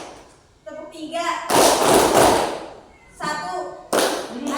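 A group of children clapping hands in a counting clap game, with bursts of dense clapping between stretches of spoken instruction from a leader.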